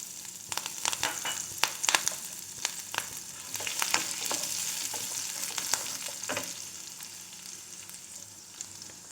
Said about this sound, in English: little more than 1 teaspoon oil is put and it's getting heated. Let's put our jeera, green chilies,